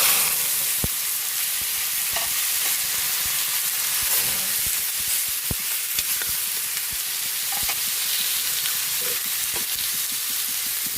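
Chicken frying in a pan sizzles steadily and loud, with a constant bright hiss broken by scattered crackles and pops throughout.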